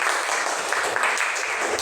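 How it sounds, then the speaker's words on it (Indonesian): Applause for a group in a classroom training session, a dense continuous clapping from many people in a room, steady and fairly loud for the full stretch. "Tepuk tangan buat kelompok 2."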